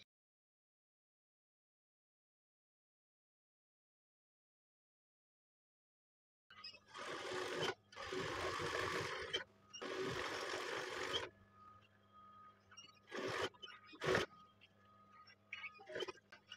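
A sewing machine stitching the overlapped panels of an Afghani salwar, running in several short bursts after a long silent start, with a soft hum and clicks between runs.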